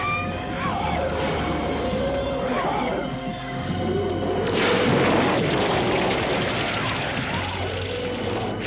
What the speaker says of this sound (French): Les Rulons ont trouvé le moyen de refaire fonctionner notre canon.